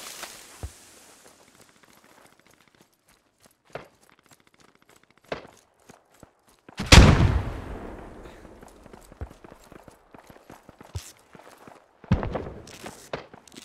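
A single grenade explosion in the military shooter game Squad lands as one sharp loud blast with a rumbling decay, preceded and followed by scattered distant gunshots and soft footsteps over a quiet battlefield.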